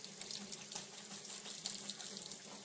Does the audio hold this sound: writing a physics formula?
no